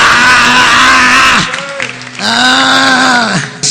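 A church congregation applauds and cheers loudly for over a second, breaks off briefly, then erupts again with sustained clapping and voices, with some tonal sound running beneath.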